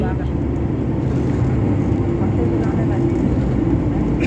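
An Air India airplane at Chennai's domestic airport, a loud continuous jet engine roar with a steady low rumble and a sustained whine, unbroken for the whole few seconds.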